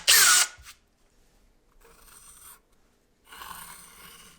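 A short, sharp burst of a power drill boring a 3mm hole in a speaker front panel at the start, followed by quieter rasping bursts of tool work with pauses between.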